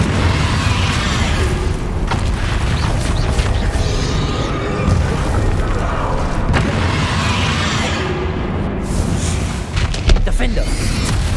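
Spell explosions from Confringo and Bombarder in the video game Hogwarts Legacy, loud rumbling blasts and booms rolling continuously with sharper bursts, under game combat noise and talk.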